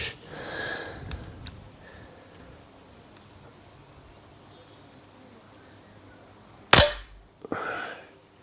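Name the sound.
Weihrauch HW40 PCA .177 air pistol firing pellets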